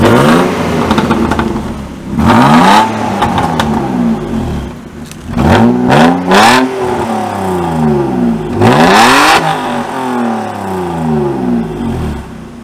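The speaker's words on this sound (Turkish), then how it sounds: "gördüğünüz gibi motorumuz takır takır çalışıyor" A BMW E39 528i engine started warm and revved repeatedly, loud rising and falling revs in several bursts with whirring between them, close to the car and with no talk.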